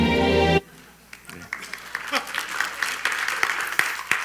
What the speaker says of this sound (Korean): 저한테 박수 치실 필요 없고요.